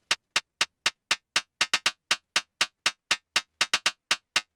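Short, bright percussive hits processed with a flanger and a tight, springy delay take on a metallic, robotic texture, arriving in a quick, slightly uneven rhythm with clean gaps between them.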